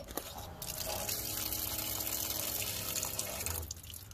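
Water gushes steadily from the outdoor tap of a 2015 Crusader Musketeer caravan, a continuous splashing stream that runs for several seconds and eases off near the end.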